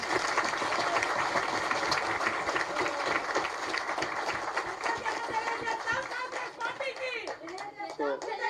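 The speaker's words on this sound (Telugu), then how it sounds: "మీరు పెద్ద ఎత్తున చప్పట్లతో అభినందించారు" A meeting audience of SC community leaders with Telangana's Chief Minister claps loudly and continuously, dense applause under a speaker's voice that fades toward the end.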